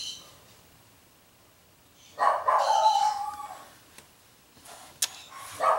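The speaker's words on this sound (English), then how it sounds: "Darn dog." A dog barks in the distance, a short volley of barks followed later by a couple of single yips, fairly faint against a quiet indoor room.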